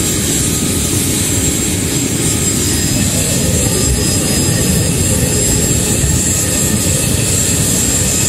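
Smelting furnace roars steadily once fired up, a loud, constant blast of flame with no break.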